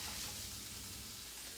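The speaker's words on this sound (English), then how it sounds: "nice little sizzle going." Pork pasta sizzles in a hot pan, a continuous close frying hiss with crackling that is loud and steady, with no one talking.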